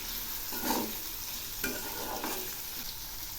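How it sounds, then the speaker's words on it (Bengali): Frying vegetables with cumin paste and ginger paste stirred in a pan, a close steady sizzle with a few soft scraping strokes of the spoon. "এগুলি আবার আমি নেড়ে দিচ্ছি।"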